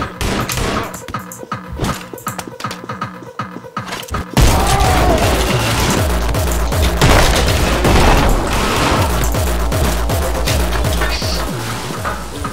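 In the video game Anger Foot, a rapid string of booming explosions and gunfire gives way to a loud, continuous crashing roar of blasts and debris that lasts to the end.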